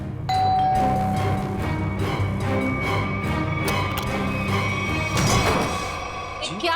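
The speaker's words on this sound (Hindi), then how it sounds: "कौन डोरबेल बजा रहा है इतनी रात गए?" A doorbell rings late at night inside a home during a tense scene in a Hindi crime drama, its chime sitting over steady background music and room noise.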